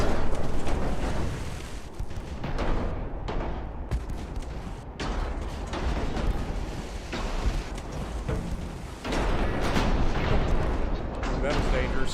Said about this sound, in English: all the secondaries over to shooting HE at this man. Burn him to the ground.